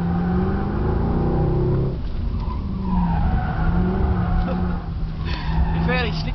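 A 457-horsepower Mercedes-Benz saloon is driven hard down a race circuit's back straight, its engine note rising and shifting loudly, with tyre squeal near the end and people talking in the car.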